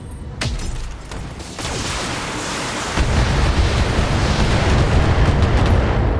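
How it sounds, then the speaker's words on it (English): Autocannon fire in a Battletech game, a rapid run of heavy booming bursts that grows louder and denser partway through, continuous and close with no talk over it. "Autocannon shots."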